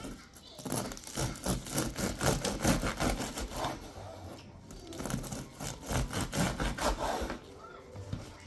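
A sharp knife saws back and forth through a crusty Guinness stout cheddar sourdough loaf, rhythmic rasping strokes in two bursts separated by a brief pause.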